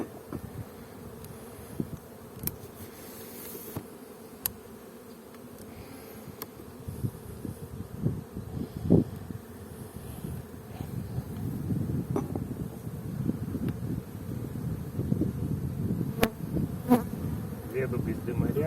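A honeybee hums steadily at a beehive, a continuous close drone that swells a little louder toward the end, with faint wind and occasional clicks behind it.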